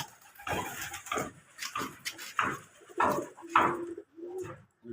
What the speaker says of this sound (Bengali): এখন আমাদের কবুতর খামার